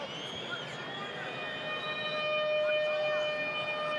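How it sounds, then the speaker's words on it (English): A half-time siren at a rugby stadium during an All Blacks versus Argentina match sounds a long, steady wailing tone that swells slightly louder over the crowd noise. "There goes the siren, so half-time almost upon us."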